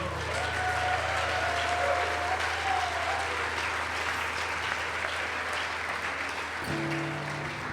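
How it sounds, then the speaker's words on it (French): Steady applause from a crowd at a church prayer vigil fills the room, continuous and fairly loud, with a low hum underneath and a brief tonal shift near the end. "On peut applaudir notre joie quand même"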